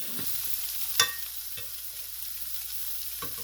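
Chicken with tandoori masala fries on high heat in a pan, giving a steady, close hiss of sizzling oil with a few soft clinks and stirring scrapes on top.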